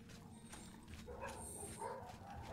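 Dogs bark and yip in the fantasy game Oblivion, a few sharp barks and whimpers over a low, steady background rumble.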